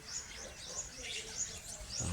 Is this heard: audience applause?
no